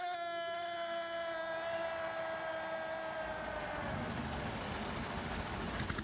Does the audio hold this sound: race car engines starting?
yes